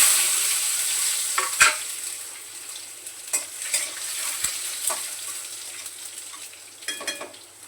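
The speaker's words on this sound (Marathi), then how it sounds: "मोहरी टाकते लगेच लसूण आणि जिरा" Mustard seeds, crushed garlic and cumin hit hot oil in a kadhai, crackling in a steady close sizzle with sharp pops and a few spoon clinks against the pan, no voices.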